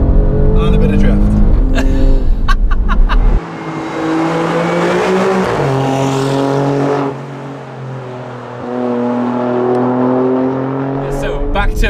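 Alfa Romeo Stelvio Quadrifoglio drifting, engine roaring loud and close with a sustained high tire squeal through the middle, with a person talking over it at the start and end.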